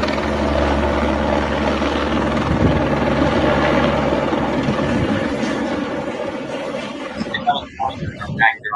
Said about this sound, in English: so that's the Texas Department of Public Safety helicopter